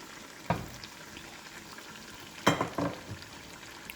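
Cooking juices from smoked pork ribs are poured into a hot pot, giving a steady sizzling hiss with a few sharp spurts of crackling.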